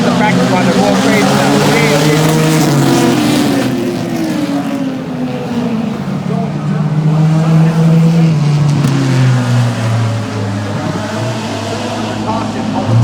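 Race cars at the start of a race, a loud roaring engine drone rising and falling as the pack passes, with talk and crowd noise mixed in over the din.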